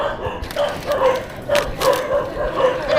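A dog barks steadily in short, repeated, mid-distance yaps, roughly one every half second, with no voices over them.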